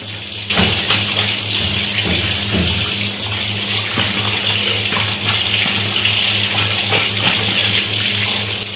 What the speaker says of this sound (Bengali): এভাবে ভালো করে কয়েকবার চিকেনটাকে জল দিয়ে ভালো করে ধুয়ে নিতে হবে